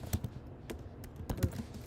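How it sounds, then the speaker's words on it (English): Typing on a computer keyboard, with irregular clusters of light key taps and clicks at a close, fairly soft level, and no voices. "I'm retyping your title, Tom, so thank you."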